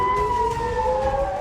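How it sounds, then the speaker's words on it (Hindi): A wailing siren in Israel holds a steady tone with slowly drifting pitch, sounding loud and continuous throughout with no voices over it. "इजराइल में पूरी रात सायरन बजे।"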